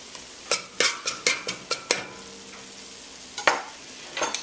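Curry powder slurry being stirred in a pan for a beef curry: a run of quick scraping stirs with a soft sizzle underneath, a pause, then a few more scrapes, close and fairly quiet.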